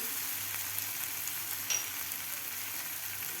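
Tomatoes frying with spices in a hot pan for a village-style drumstick masala, a steady close sizzle and crackle with no voices.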